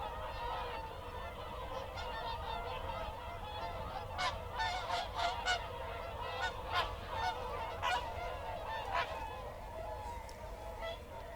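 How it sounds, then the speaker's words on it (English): Honking swans pass close overhead at dawn over the Welney fens, calls rising and falling, with rhythmic whooshing wingbeat pulses standing out in the middle. "you hear the beats of the wings, they're coming right over us."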